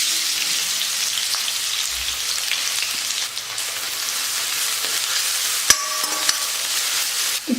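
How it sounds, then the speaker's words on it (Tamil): Thin, lengthwise-sliced onion crackles in hot oil in a kadai, a loud, steady broadband sizzle that runs the whole time, with a couple of brief clinks near the end. "இப்போ எண்ணெய் சூடேறினதும் இந்த வெங்காயத்தை நான் ஆட் பண்ணிக்கிறேன்"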